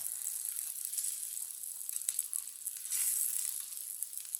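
A wheat flour lachha paratha cooks on a tawa over medium heat while it is turned around. It gives a faint, steady hiss and sizzle, with small crackles and no talking.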